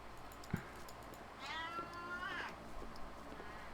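A kitten in the Penance RPG game gives one drawn-out, wavering meow over a faint background hum, preceded by a short click, soft and fairly distant.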